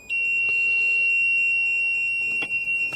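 A steady high-pitched electronic warning alarm from a new Manitou telehandler sounds continuously, loud and close, with a couple of brief clicks near the end.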